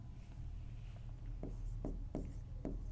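Pen strokes scratching across paper while writing out a maths solution on shaded-region area, several short distinct scrapes close to the microphone over a steady low background hum.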